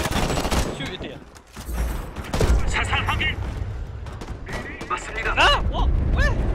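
Gunfire and combat noise in the shooter Homefront: The Revolution crackle through the clip, bursts of shots mixed with chaotic game sounds and people talking excitedly over the action.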